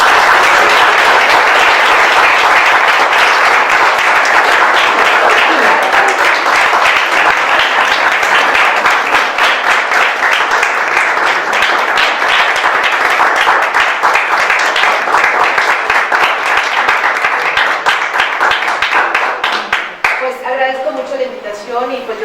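An audience at a university event on physical activity for people with disabilities gives loud, sustained applause for about twenty seconds, a dense close wash of clapping that fades as a voice begins to speak at the end.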